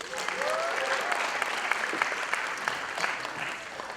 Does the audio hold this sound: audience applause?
yes